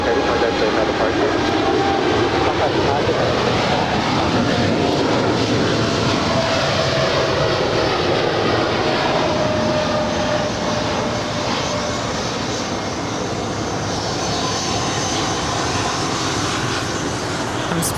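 Cathay Pacific Cargo heavy jet taking off at LAX, a loud, sustained broadband engine roar that fills the whole stretch with a faint rising whine, steady and close with no talk over it.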